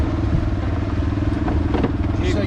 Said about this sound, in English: You got to have your motor running.